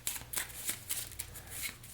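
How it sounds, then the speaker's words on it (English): Cards from a deck-building board game being shuffled by hand, a quick run of crisp riffling bursts repeating steadily and close up, with no talk. "There's nothing in my draw pile, so I need to shuffle all of these so I can draw my new hand for the next round."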